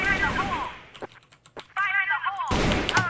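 A handful of sharp, close AK-47 Black Widow rifle shots crack in quick succession in a CrossFire match, set between stretches of someone talking over the game.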